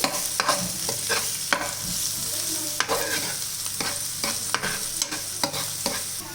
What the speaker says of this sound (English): Now add the onions, chopped onions, saute it, and then we are going to add the green chilies also.